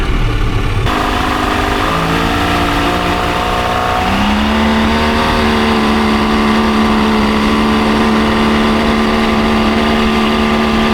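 A 1969 Thunderbird tri-hull boat's engine, which has a suspected fuel leak, runs loudly and steadily, its pitch stepping up in a couple of stages before settling into an even, sustained drone.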